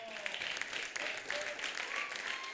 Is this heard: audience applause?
yes